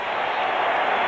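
Baseball crowd at a Mets versus Cardinals game roaring in a sustained, dense wall of cheering, loud and continuous with no break.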